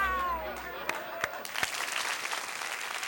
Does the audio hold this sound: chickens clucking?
no